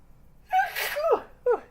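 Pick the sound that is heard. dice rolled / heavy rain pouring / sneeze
sneeze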